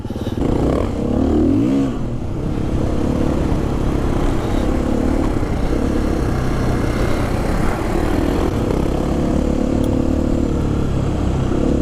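A KTM 350 EXC-F enduro motorcycle engine from 2022 drones loud and close while riding off-road, a steady four-stroke roar with a brief rev change near the start and constant wind and chassis rattle throughout.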